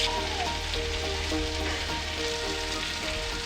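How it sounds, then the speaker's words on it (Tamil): Onions sautéing in a pan for a village-style egg curry, giving a steady, close sizzle that hisses without a break from start to finish. "இந்த வெங்காயத்தோட பச்சை ஸ்மெல் போகிற அளவுக்கு நல்லா வதக்கிக்கலாம்."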